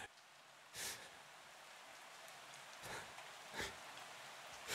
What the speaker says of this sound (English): Look, Daddy, it's raining.